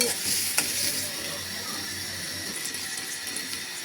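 Sliced onion drops into hot oil in a pan while cooking a loitta fish recipe, giving a steady close sizzle with light stirring scrapes and a faint clink near the start.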